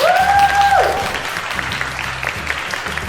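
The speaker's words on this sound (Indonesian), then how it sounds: "Beri tepuk tangan." An audience applauds at a hotel event in Surabaya ahead of a band performance, a broad wash of clapping that swells early and then thins, with a low rhythmic music bed and a brief tone at the start.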